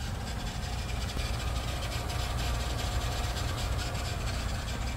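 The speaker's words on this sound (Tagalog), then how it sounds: "pakinggan nyo ang aking sasakyan" A car engine idles in extreme cold during a Canadian winter, a steady low rumble with constant vibration and outdoor wind noise, no voices.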